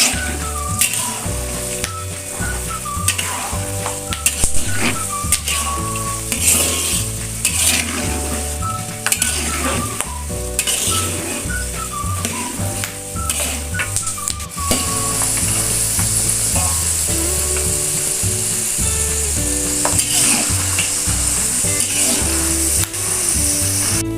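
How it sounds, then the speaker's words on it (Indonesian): Peanuts fry and are stirred in a pan for a Minang-style balado dish with yellow noodles, giving a steady close sizzle with repeated scraping, rattling stirs throughout. "Lanjut kita goreng kacang tanahnya."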